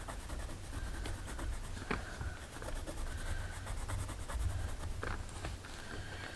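A Faber-Castell Polychromos colored pencil scratches across watercolor paper in short, quiet back-and-forth strokes, close and soft, with no voices.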